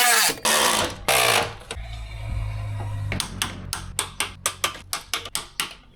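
A ratchet tightens copper-greased fuel tank bolts on a Land Rover Discovery SDV6, giving a close, rapid series of evenly spaced clicks after a few louder knocks and a brief mechanical hum.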